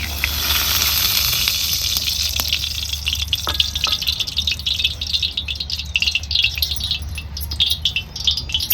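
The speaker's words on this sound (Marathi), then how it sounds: "आता ह्याच्यात घालते मी तेल" Cooking oil poured into a hot iron pan: a steady hissing wash of liquid sound with some metallic rattling and clinks, close and fairly loud throughout, with no voices.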